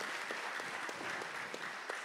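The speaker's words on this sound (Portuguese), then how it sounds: "uma salva de palmas às nossas tradutoras" Crowd clapping at a live stage hypnosis show, giving a round of applause to the translators, a soft, steady patter of many hands heard from some distance.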